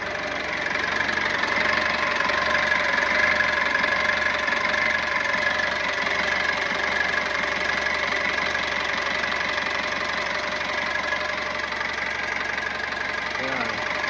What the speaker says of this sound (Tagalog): Hintayin lang natin na maging stable yung idle niya.